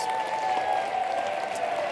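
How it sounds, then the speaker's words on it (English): Steady applause from an audience at a ski talk presentation, a dense even patter of clapping sustained throughout at moderate loudness. "Let's give everyone a big round of applause"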